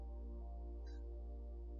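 A cat gives a single short, faint meow from under a desk, heard over a steady low electrical hum.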